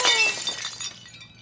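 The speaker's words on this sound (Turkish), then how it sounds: "Cam mı kırıldı?" Glass shatters nearby with a sharp, bright crash followed by tinkling fragments that scatter and fade over about a second, with no speech.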